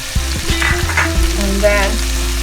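Meat curry powder frying and being stirred in a pan for a vegetable curry (kuah lodeh), loud close sizzling with a few scraping stir strokes near the start, no talking.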